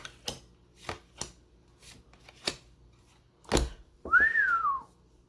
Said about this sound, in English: That was a good whistle, hey?